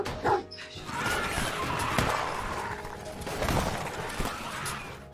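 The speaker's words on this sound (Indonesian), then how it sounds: "si anjing malah menggonggong" A dog barks repeatedly in a film scene where prehistoric creatures attack a car. The sharp, fairly close barks and yips sit over a busy, cluttered background of action noise.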